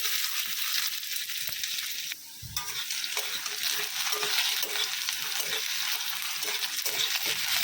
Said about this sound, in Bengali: একটু লাল লাল করে আলুটা ভেজে নেব।